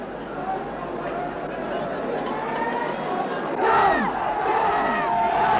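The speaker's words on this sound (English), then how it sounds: "The crowd sets off in pursuit of the march." A large crowd at the 1977 Battle of Lewisham, shouting and yelling as it surges after a National Front march through London streets, with a roaring mass of voices that swells louder partway through.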